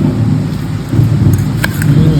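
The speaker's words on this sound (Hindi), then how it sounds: "And rain is here." Low rumbling of thunder over a steady wash of rain, with a couple of faint clicks on top.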